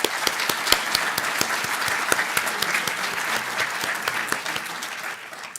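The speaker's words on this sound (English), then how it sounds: "let's just give them a round of applause in honor of their parents." Audience applause at an evening Christian history lecture, honoring guests' parents: steady, fairly distant clapping from a modest crowd with individual claps standing out, gradually thinning toward the end.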